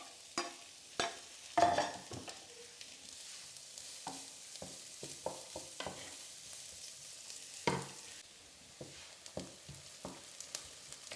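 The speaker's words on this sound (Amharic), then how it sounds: "ከዛ ዘይቱ ጋር ብሎ እንደዚህ ከመሃል ላይ ሲሸሽ ከብረት ድስቱ ላይ ማለት ነው ከመሃሉ ላይ እንደዚህ ሽንኩርታችንን እንጨምራለን" Onions added to hot oil in an iron pot, a faint sizzle punctuated by irregular stirring scrapes and clinks, fairly quiet and close, with no voices.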